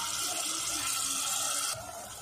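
Water pours steadily into a cooking pot of soaked rice for a lunch rice dish, a continuous close splashing rush that drops off near the end.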